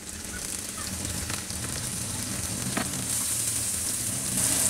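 Onions with chopped red and green chillies sizzle in oil in a frying pan, a steady close hiss with soft crackles and an occasional stir, rising slightly toward the end.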